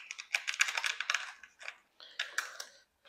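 Electrical tape being wrapped around the wiring of a Club Car Precedent golf cart, a close, crackly series of rapid tearing and peeling bursts in two runs, separated by a short pause, with no talk.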